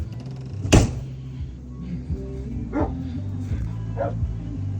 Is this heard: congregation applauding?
no